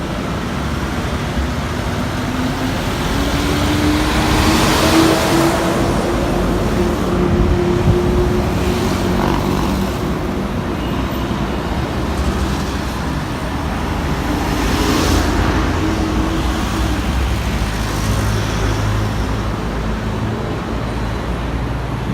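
City traffic at a busy street corner in central Makati with buses and jeepneys, a continuous roar of engines and tyres, a vehicle passing close by with a rising and falling engine tone, steady and loud throughout.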